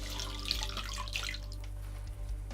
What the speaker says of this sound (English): just rinse it off in the water